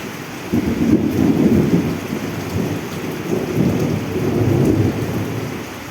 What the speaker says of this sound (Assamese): বহুত জোৰে বৰষুণ দিছে একেবাৰে